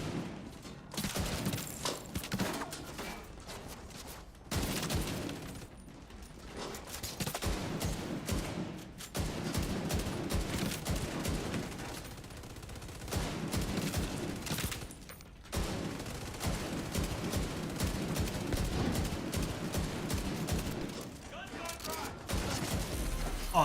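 Rapid bursts of video game gunfire crackle through a first-person shooter match, with repeated fusillades and brief lulls between volleys, mixed with game audio and speech throughout.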